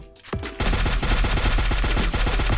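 Rapid automatic gunfire in the battle-royale game Free Fire, a dense, loud, continuous burst of shots with a brief pause near the start, close and without talk.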